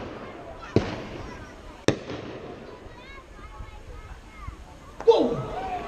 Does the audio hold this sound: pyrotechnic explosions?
yes